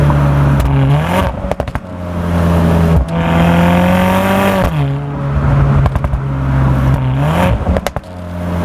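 A 2023 Mercedes-AMG C43 engine revs hard in repeated pulls, each climbing in pitch then dropping sharply at a gear change, with crackles between shifts.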